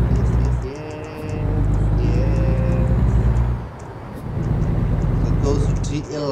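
Simulated truck driving in American Truck Simulator: a loud, steady low engine rumble with rising whine-like tones as it shifts through gears, dipping briefly midway before building again, with talk over it.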